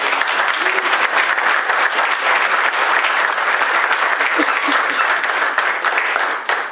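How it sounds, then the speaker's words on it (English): An audience gives a round of applause after a presentation, dense continuous clapping from many hands, loud and close, holding steady for several seconds before easing at the end. "One more round of applause for ConnectBZ, please."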